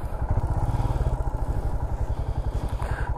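A motorcycle engine with a heating problem runs steadily nearby, a fast regular low-pitched chug with a rattling edge throughout, no talk.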